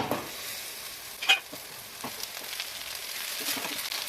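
Stuffed brinjals frying in hot oil in a pan for Telugu-style oil brinjal curry, giving a steady soft sizzle with a brief louder crackle and small stirring clicks, close and alone without talk.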